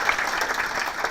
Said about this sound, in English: Why don't you just clap?